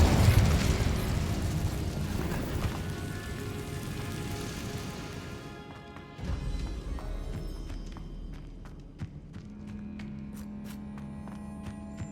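A fiery burst roars from the Incendio spell in Hogwarts Legacy, a loud, dense whoosh and rumble that swells at the start, drops away, then surges again and trails into crackling, flickering tails and a steady low hum.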